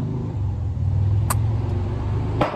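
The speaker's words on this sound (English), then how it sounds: "get your motorcycle out of the fucking neighborhood" A motorcycle engine rumbles nearby as it rides through a residential neighborhood, a steady loud low drone that swells slightly mid-way, with no talk over it.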